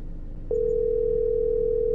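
In a horror video game, a phone call connects and a steady, unbroken ringing tone begins abruptly after a brief quiet stretch, then holds at an even level until the end.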